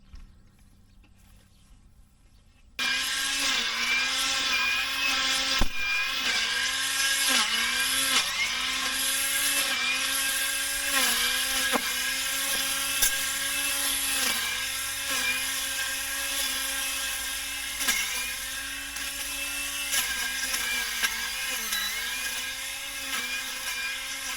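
A battery-powered weed wacker fitted with a metal blade cuts through weeds. The whirring motor starts abruptly after a quiet moment, then holds steady with repeated dips and rises in pitch as the blade bites into growth.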